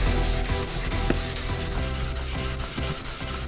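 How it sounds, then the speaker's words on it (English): Sandpaper rubs back and forth across a carbon fiber part on a Ferrari 458 Challenge Evo, a close, continuous gritty scraping with a quick repeating stroke rhythm and no voices. "going up the grit levels on the sandpaper here to see which one is going to remove all of these the best"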